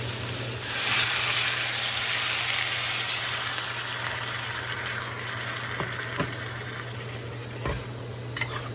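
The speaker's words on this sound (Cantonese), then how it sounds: "放落去炒啊！" Kohlrabi stir-frying in a hot wok gives a steady, loud sizzle with hissing steam, fading slightly over time and broken by a few light clinks of utensils against the pan.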